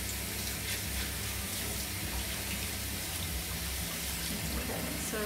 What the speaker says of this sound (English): I need to rinse my hands and this bowl now